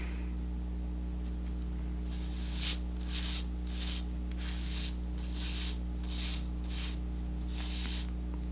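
Soft, repeated swiping of a lactic acid peel pad across the face, about ten brief brushing strokes in an even rhythm over a constant low electrical hum.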